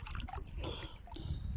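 Water splashing and trickling as people bathe and swim at an outdoor spot in Oman, a steady close wash of liquid sounds with brief louder splashes throughout.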